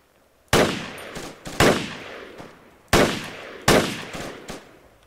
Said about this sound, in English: Team 2, start laying down suppressive fire.